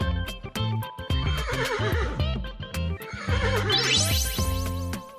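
A little horse whinnies twice, with long wavering neighs that rise and fall over bouncy background music, amid a steady beat of clip-clop-like percussion.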